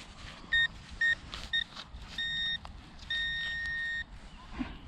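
A metal detector signalling a find among stones, bricks and dirt: a series of close electronic beeps, first several short tones, then two longer sustained ones, over faint background rustle.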